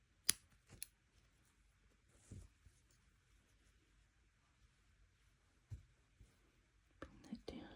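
Small scissors snipping fabric while hand-stitching a pouch, a few faint separate cuts close by in a quiet room with soft whispering between them.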